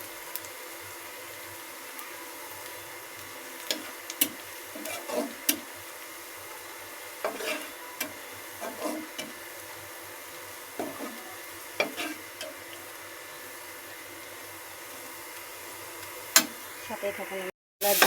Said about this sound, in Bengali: এই যে পেঁয়াজটা ভেজে নিচ্ছি